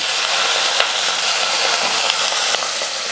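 Drumsticks sautéing in a pan with softened onions for sambar make a loud, dense, steady sizzle, close up, with a few faint clicks of stirring and no talking.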